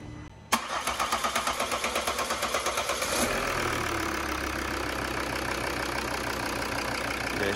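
A Volvo XC70 engine, just repaired for a head gasket fault, cranks with a rapid rhythmic starter churn for about three seconds, then catches and settles into a steady, close idle.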